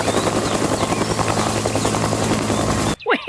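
A toy helicopter whirs with a steady, loud buzzing drone and rhythmic rotor-like pulsing for about three seconds, then stops abruptly as a voice speaks briefly.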